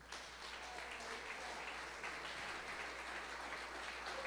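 A church congregation applauding during a Spanish-language service, a faint, steady wash of clapping from a distance across the whole stretch.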